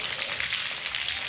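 Food sizzles and crackles in hot oil in a pan, a close, steady frying hiss over a brief moment with no talk.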